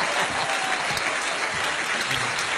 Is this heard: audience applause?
yes